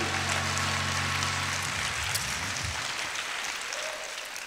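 Congregation applauding during a sermon in a church, a steady, hissing wash of clapping that holds for several seconds over a low hum that soon drops away.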